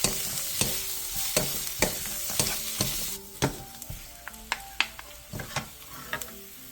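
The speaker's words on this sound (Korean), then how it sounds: "팬에 기름을 두른 뒤 어묵과 다진 마늘 3분의 1스푼을 넣고 어묵이 살짝 노릇노릇해질 때까지 중약불에서 볶아주세요" Fish cakes and minced garlic stir-fry in oil in a pan over medium-low heat, a steady close sizzle broken by repeated sharp scrapes and taps of the spatula at an irregular rhythm, with no voices.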